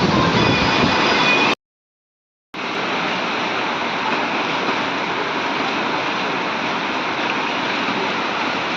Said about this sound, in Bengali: প্রচুর বৃষ্টি, প্রচুর, আজকে